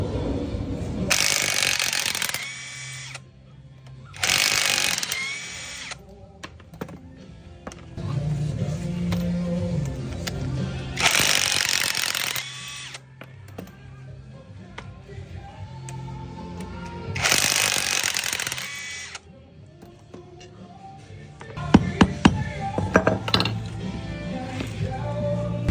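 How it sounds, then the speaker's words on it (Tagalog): Ratchet wrench turning out the four size 14 bolts from the rear shock of a Honda Click 125 scooter, loud repeated bursts of rapid clicking separated by pauses, with metallic clinks and workshop noise between. "Tanggalin na rin natin itong bolt na to sa shock niya."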